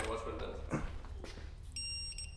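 A torque wrench set to 90 foot-pounds, used during a Nissan D21 Hardbody starter replacement, gives a short electronic beep near the end, preceded by clicks and handling noise with people talking.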